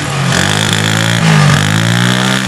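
The engine of a used motorcycle with a slightly rusted silencer, for sale at a Friday second-hand bike market, revs loudly and steadily up close with a rough, throaty drone that swells slightly midway.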